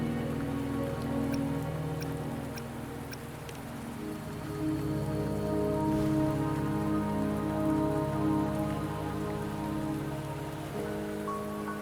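Steady rain patters on surfaces in the video game Wuthering Waves, a dense close drizzle of drops over a low hum and soft tonal ambience, continuous and without speech.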